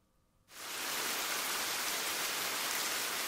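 Steady rain begins abruptly after about half a second and then holds as a loud, dense, even hiss of falling drops to the end, with no voices.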